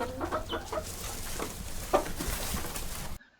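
A rooster clucks and calls over steady farmyard background noise, moderately loud and close, with several short bursts and one stronger cry near the middle.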